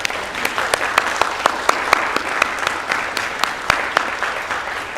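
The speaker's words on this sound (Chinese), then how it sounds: "来，我们跟他鼓掌。" A church congregation at a Sunday worship service in Kaohsiung applauds to honour a counselor's 35 years of service, with sharp individual claps standing out over a steady, moderately loud patter of hands.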